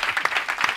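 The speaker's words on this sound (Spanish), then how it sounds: "Un aplauso para Vicente del Bosque." A short burst of TV studio audience applause, many hands clapping together in a lively, even patter.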